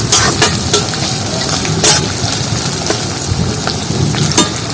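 Four green chillies fry with onions in white oil, giving a continuous crackling sizzle broken by scraping stirs and sharper spits throughout.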